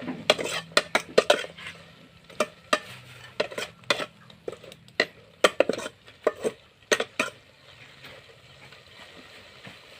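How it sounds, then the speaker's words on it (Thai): Giant eel meat is stir-fried in a pan, a utensil scraping and clanking against the metal in irregular bursts of sharp knocks over a faint sizzle, busy at first and thinning out toward the end. "เฮากะขัวจนเนื้อมันสุกแบบบ่มีเดือดเลยเนาะจ้ะ"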